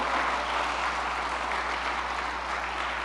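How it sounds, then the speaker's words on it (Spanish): A church congregation claps steadily during a worship service, an even wash of many hands applauding alone over a low electrical hum, moderately loud throughout. "Denle un aplauso al Señor"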